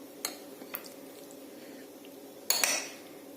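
A spoon scrapes and clinks in a dish while mixing a yogurt paste marinade for paneer, with a couple of faint taps early and a louder scraping clatter near the end, quiet and close.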